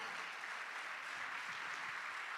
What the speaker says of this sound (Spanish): Dale un fuerte aplauso a nuestro Dios.